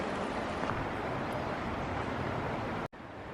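River water flows steadily far below an exposed trail, a broad continuous rush that holds even in loudness before cutting off abruptly near the end.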